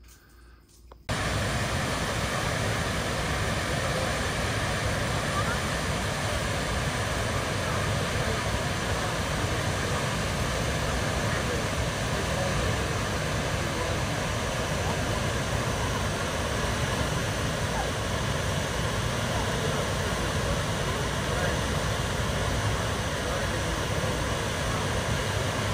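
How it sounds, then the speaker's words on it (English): A waterfall pours in a steady, dense broadband roar that starts abruptly after a second of quiet. It stays constant and unbroken throughout, with no voices. "I hope you enjoyed that clip of that waterfall"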